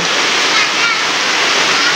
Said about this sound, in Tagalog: Pumasok ang tubig sa gilid. Ayan pa. Ang tubig.